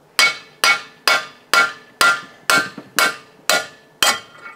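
Nine sharp, evenly spaced hammer blows ring out loud and close as an aluminum tool is driven to seat a balance shaft bearing in an Atlas 4/5-cylinder engine, each strike decaying quickly before the next.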